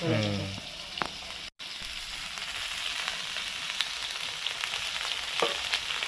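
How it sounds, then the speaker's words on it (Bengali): Soaked chickpeas tipped into vegetables already frying in a pan, a brief clatter at the start, then a steady sizzle with occasional crackles and stirring clicks. "এই সময় দিয়ে দিচ্ছি ভেজানো ছোলা"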